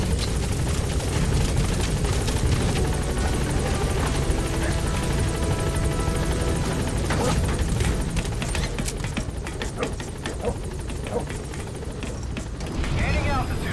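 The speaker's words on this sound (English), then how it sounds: "Support helicopter has arrived." A support helicopter in Metal Gear Solid V arrives at the landing zone, its loud rotor wash and engine roar filling the scene, while radio voices speak over it.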